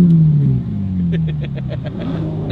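A Porsche engine at a car rally rumbles and revs up nearby, a deep mid-pitched engine note that rises and falls with a few pulsing bursts, loud and close.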